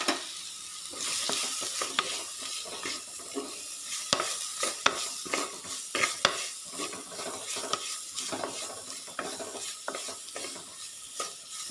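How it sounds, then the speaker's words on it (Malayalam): A large onion frying in oil with salt, stirred steadily in the pan, with a constant close sizzle broken by frequent scraping clicks of the spoon, no voices. "ഒരു വലിയ സവാളയാണ് എടുത്തിരിക്കുന്നത് കേട്ടോ. നന്നായിട്ട് ഇളക്കി കൊടുക്കാം."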